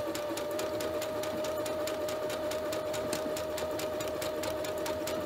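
A sewing machine runs a straight stitch on a buttonhole, its needle pumping in a fast, even rhythm with a steady motor whine, close and continuous throughout.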